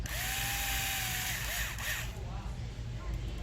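A power drill whirs steadily as it drives screws into an RC bead lock wheel, one continuous close run that winds down near the end, with faint room noise after.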